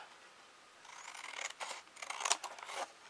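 Scissors snip through paper card while making a small snowy greeting card, a quick series of close, crisp cutting strokes that are quiet and alone.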